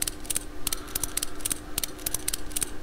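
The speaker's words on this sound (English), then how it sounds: "It's still drawing in all the bolts in the background." Bolts being driven in the Car Mechanic Simulator video game, heard as a quick series of short, sharp ratcheting clicks in small clusters, steady and fairly close, over a low constant background hum with no talking.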